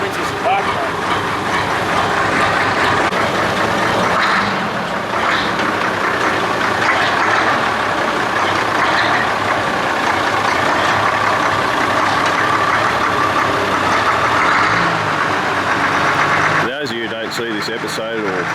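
A diesel engine on a Chamberlain tractor crane runs steadily as the machine is moved, a continuous loud rumble with mechanical clatter, ending in a brief sharp transient near the end.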